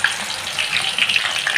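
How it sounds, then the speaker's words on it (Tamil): Raw plantain slices drop into hot oil for chips. The oil gives off a loud, close, rushing hiss with bubbling bursts that swell and fade over a moment, and no one speaks. "இந்த காஞ்ச எண்ணெய்க்குள்ளே நல்லா காஞ்சோடனே இது உள்ளே போட்டுடணும்"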